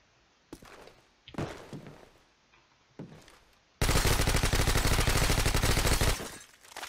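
Suppressed gunfire from a silenced weapon in Call of Duty Modern Warfare 2 comes as a few separate muffled thuds, then a dense, loud sustained burst of rapid shots that cuts off abruptly.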